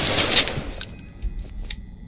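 Game gunfire in Wall of Insanity: a quick burst of several sharp shots at the start, then fainter single reports spaced apart, with no talk over them.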